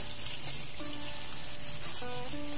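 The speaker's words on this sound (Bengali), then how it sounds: "তো তেলের মধ্যে ছেড়ে দিলাম মাছগুলো। এইবার মাঝারি আঁচে নেড়ে চেড়ে লাল লাল করে ভেজে নেওয়ার পালা।" Tangra fish fry in hot oil over medium heat, giving a dense, continuous sizzle and crackle. Faint tonal music plays underneath.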